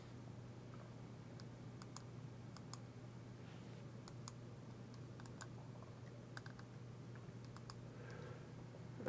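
Keys clack in scattered bursts on a computer keyboard as a folder name is typed, with a steady low hum underneath throughout.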